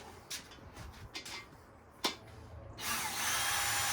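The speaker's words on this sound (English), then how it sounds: "you should be able to back them out with the drill" A power drill briefly whirs a few times in short bursts, then runs steadily as it backs screws out, close and fairly quiet with no talking.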